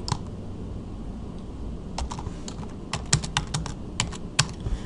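Keys clatter on a computer keyboard as a file name is typed, a quiet run of light irregular taps that turns into sharper, spaced clicks toward the end, with no talking.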